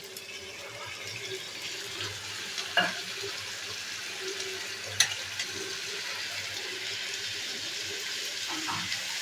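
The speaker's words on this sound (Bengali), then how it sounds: "এবার সেদ্ধ করে রাখা মোচাটা দিয়ে দেবো।" Boiled banana flower goes into a frying pan with prawns, bringing a soft steady sizzle and a few scraping stirs, fairly quiet and close with no talk.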